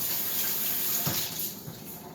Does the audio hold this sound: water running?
yes